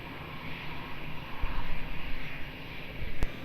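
An airplane taking off from Lisbon Airport, a distant engine roar that swells and wavers, with no voices.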